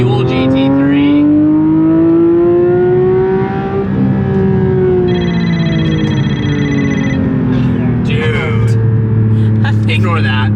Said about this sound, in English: And driving a manual GT3,